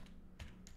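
A few quiet clicks on a computer keyboard, ending in a key press for Enter, heard as brief, faint taps close by.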